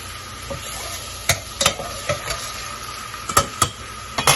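Whole spices such as cinnamon and cumin fry in hot ghee, giving a steady low sizzle broken by sharp clicks and scrapes of a spoon stirring against the pan.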